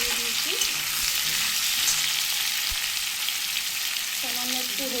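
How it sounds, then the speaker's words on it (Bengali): Potato, tomato and onion fry together in hot oil with a dense, steady sizzling hiss. Faint low clinks occasionally sound beneath it. "এই তেলের মধ্যে আমি আলু, টমেটো, পেঁয়াজ সব একসাথে দিয়ে দিয়েছি।"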